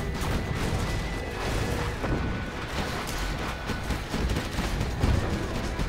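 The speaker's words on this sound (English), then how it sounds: "Particle cannon activated." Particle cannon fire in a real-time strategy video game, booming blasts and crackling impacts layered over busy battle sound effects, fairly quiet and dense throughout.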